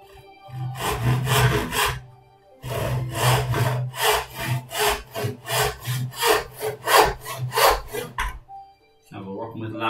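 Hand saw cutting laminate wood held in a vise, with steady back-and-forth rasping strokes in two long runs and a brief pause between, close and clear, ending with a short clatter.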